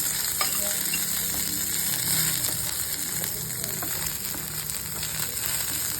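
Curry leaves and chana dal frying in oil for a village-style mutton masala, a loud, continuous sizzle with stirring scrapes, close and steady without voices.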